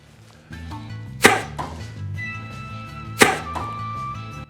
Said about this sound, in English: These blowguns can launch needles at high speed without almost any sound.